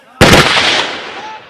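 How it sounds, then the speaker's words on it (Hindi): A single loud, sharp gunshot from an SLR self-loading rifle at an outdoor firing range, cracking abruptly and then rolling off in a long, fading echo. "देखिए गोली चलाई गई, यहाँ पर गोली SLR राइफल है जिससे ये गोली चला रहे हैं।"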